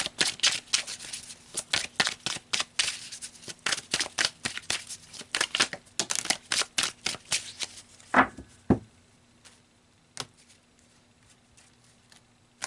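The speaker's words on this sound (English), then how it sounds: "So let's pull some more cards here." Tarot cards being shuffled by hand in rapid bursts of crisp riffling slaps, close and fairly loud, thinning out toward the end with a few scattered flicks.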